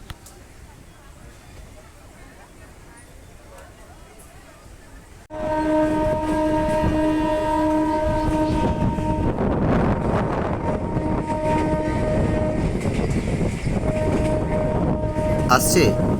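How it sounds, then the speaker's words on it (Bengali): A train pulls away on the single-track Ranaghat–Bangaon line, its rumble jumping to a loud, steady roar partway through with sustained droning tones riding over the running noise, continuous and close. "স্টেশন থেকে বেরিয়েই এবার ট্রেন কিন্তু মোটামুটি একটা স্পিড নিয়ে নিয়েছে।"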